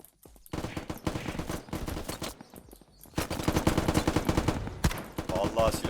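Weapon fire in the video game Unturned: rapid, loud automatic bursts that run almost continuously, with short gaps between volleys.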